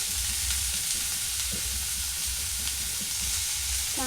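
Tomatoes sauté in oil over a low flame, producing a dense, even sizzle throughout with faint stirring scrapes and low rumbling, close up and without any talking.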